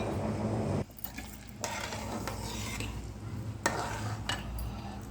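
Sugar being stirred into semolina halwa in a pan over a high gas flame, a steady close scraping and stirring with light sizzling, broken by a few brief pauses.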